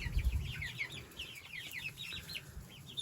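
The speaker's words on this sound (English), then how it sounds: "I'm still kind of trying to figure out who's a rooster, who's a hen." A backyard flock of chickens, hens and roosters, clucking in quick, overlapping bursts close by against a quiet outdoor background.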